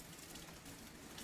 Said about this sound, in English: all of a sudden, it's fucking rain